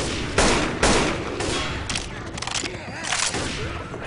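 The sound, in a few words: shotgun fire, from the video game Left 4 Dead 2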